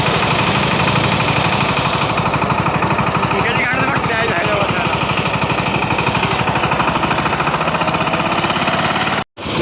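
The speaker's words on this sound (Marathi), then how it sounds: "ट्रॅक्टरवर बसून निघालो." Tractor engine chugging loudly and steadily with people riding on it on a rough village road, a close, rapid knocking throb throughout with brief voices over it, ending in a sudden cut.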